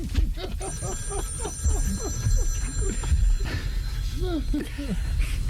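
A telephone rings repeatedly during a 1994 radio comedy show. The bright, insistent rings sound over continuous talk and background bustle.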